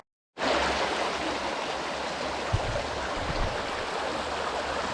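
A side creek swollen after heavy rain on a Fourth of July fishing outing, rushing steadily in a loud, broadband wash that fills the whole stretch with no pauses, close and constant, with only faint low knocks underneath.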